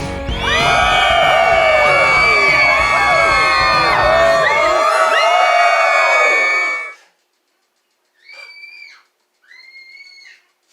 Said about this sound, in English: Y'all hear any screaming in the background?